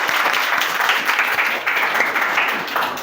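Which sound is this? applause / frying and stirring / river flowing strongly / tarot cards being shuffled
applause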